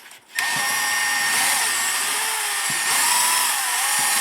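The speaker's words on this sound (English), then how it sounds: "Just put it on low speed on my drill" A cordless power drill from an auto detailing kit runs steadily at low speed, a continuous close, loud whine with a faint change in pitch, starting after a short quiet moment.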